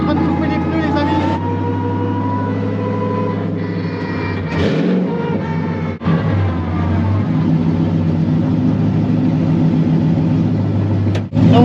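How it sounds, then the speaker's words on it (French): A Nissan S14 Rocket Bunny drift car running down a straight to warm its tires, the engine droning steadily and loud from inside the car, with a brief shift-like dip midway. "Là on vient de faire juste la ligne droite pour chauffer les pneus"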